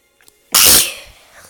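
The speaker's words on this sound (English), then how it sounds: "Yeah, I'm sneezing." A single loud, close sneeze bursts out after a brief quiet intake of breath, then fades quickly.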